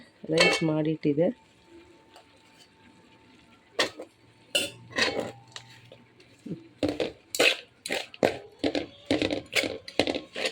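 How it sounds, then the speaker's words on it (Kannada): Cooked rice being stirred into lemon rice gojju, a tangy tempered mixture, in a home kitchen: a spoon scrapes and clinks against a metal vessel in irregular bursts, close and fairly loud, with brief speech early on. "ನಾನು ಎಲ್ಲ ರೈಸನ್ನು ಹಾಕಿ ಚೆನ್ನಾಗಿ ಮಿಕ್ಸ್ ಮಾಡ್ಕೊಳ್ತೀನಿ"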